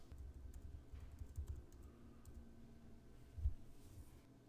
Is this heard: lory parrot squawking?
no